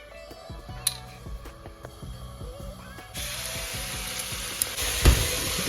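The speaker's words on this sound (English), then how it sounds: "250 grams of gammon on the hob, and we're just like grilling this" Gammon fries on a hob with a steady soft sizzle, joined by scattered light clinks and scraping, growing louder partway through.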